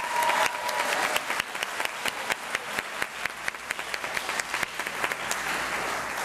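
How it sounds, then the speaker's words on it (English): Applause for graduating seniors at a 2019 senior walk ceremony at Ranchview, a crowd clapping steadily with sharp individual claps standing out, continuous and fairly full throughout. "Let's give one more round of applause to all of our seniors."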